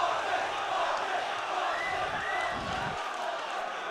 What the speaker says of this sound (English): The crowd really getting into this fight now.